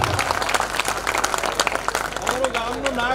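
An audience at a Gujarati dayro folk performance in Vigodi, Kutch bursts into dense, sustained clapping that fills the whole stretch, with a voice rising over the applause toward the end.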